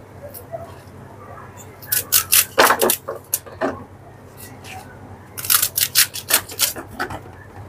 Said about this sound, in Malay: Potong kangkung je.